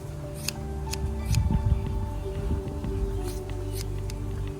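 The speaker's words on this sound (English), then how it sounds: "So I always trim this hair right here." Scissors snip a Doodle dog's hair during grooming, with a few short, crisp cuts heard close up over a steady low background hum.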